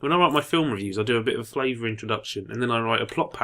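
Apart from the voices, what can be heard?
No distinct noise like a dog, phone or traffic.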